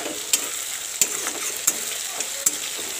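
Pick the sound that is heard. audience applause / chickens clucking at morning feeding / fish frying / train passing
fish frying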